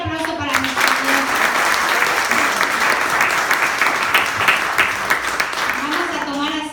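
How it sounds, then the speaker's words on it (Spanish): A church congregation applauds loudly and steadily throughout, a dense wash of many hands clapping, with a few voices calling out at the start and end. "Un fuerte aplauso para nuestro Dios."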